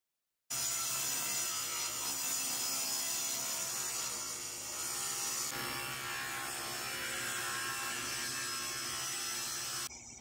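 Continuous saw cutting through walnut lumber, ripping it into 1-inch-wide slats for a baby crib, a steady loud buzzing rasp that runs unbroken for about nine seconds and cuts off at the end.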